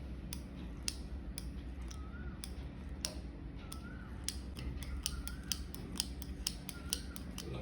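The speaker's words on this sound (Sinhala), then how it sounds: "ඊට පස්සේ නූල් එක කට් කරගන්න." Scissors snip tatting thread close by, a regular run of crisp clicking cuts over a steady low hum.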